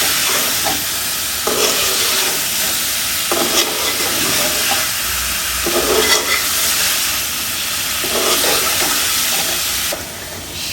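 Tomatoes and spices stir-fry in a pan for a traditional Bangladeshi masoor dal with moringa drumsticks, a close, constant sizzle and hiss broken by repeated scraping stirs.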